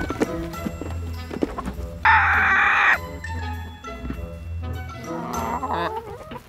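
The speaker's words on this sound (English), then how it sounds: "So let's go ahead and let the chickens out." Backyard chickens being let out in the morning, with clucking and rooster-like calls plus a loud sustained squawk in the middle, fairly close, alongside farmyard shuffling and no talk.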